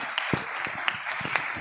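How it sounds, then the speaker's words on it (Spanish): An audience at a university engineering open day gives a brief, light round of clapping, with a few sharper claps standing out over a thin, muffled patter. "Sí, pueden aplaudir, claro."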